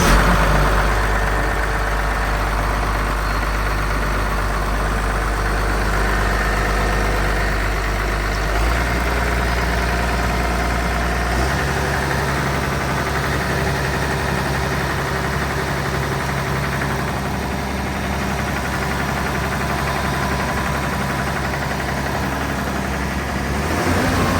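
A Komatsu PC200LC-7 excavator's diesel engine runs steadily, a loud low rumble that shifts down in pitch twice as it settles toward idle.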